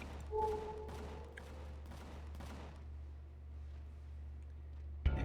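A ship's guns firing in the space game Empyrion: Galactic Survival, a quick burst of sharp shots with ringing tones early on, then a low engine hum and one last loud crack at the end.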